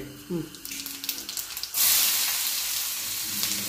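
Cumin seeds hit hot oil for bitter gourd curry with a sudden loud hiss, then a steady crackling sizzle that settles slightly, after a few light clinks and a brief voice.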